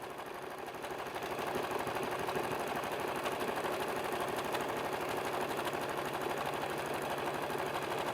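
A sewing machine stitches steadily along the edge of a flannel pennant banner, its rapid even needle rhythm running continuously and close for about eight seconds with no talking.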